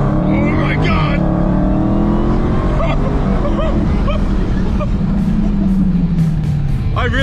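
Car launched in drag mode, its engine roaring loud and close while rising and falling with the acceleration, with excited voices and exclamations over the noise throughout.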